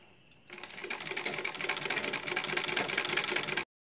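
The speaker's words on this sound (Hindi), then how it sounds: "अब हम इसे किनारे किनारे ठीक बकरम के किनारे किनारे सिलाई करेंगे।" After a brief quiet start, a sewing machine runs continuously, stitching along the buckram edge of a blouse back neck with a fast, even mechanical whir and rattle that holds steady until it stops abruptly.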